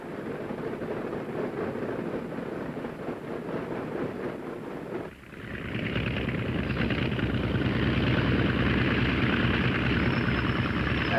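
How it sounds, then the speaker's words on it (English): Light airplane taxiing toward the warm-up block before takeoff, a steady propeller engine drone that holds close and continuous, briefly dipping midway then returning slightly louder with airy wind noise. "we taxi over to the warm-up block"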